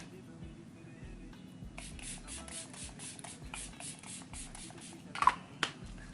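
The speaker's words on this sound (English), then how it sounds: "we're gonna set our face with the Beauty Always in Optimus setting spray" Beauty Always Optimus makeup setting spray mists onto a face in a quick run of short, soft spritzes that grow slightly sharper toward the end, close and fairly quiet.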